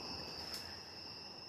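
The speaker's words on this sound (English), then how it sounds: "You hear the crickets chirping." Crickets chirp in a steady, high continuous trill, faint and distant, with quiet night ambience around it.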